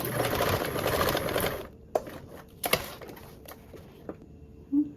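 A sewing machine runs a basting seam at a 1/8 seam allowance, a quick steady whirring burst for under two seconds, then stops, followed by a few sparse clicks and handling sounds.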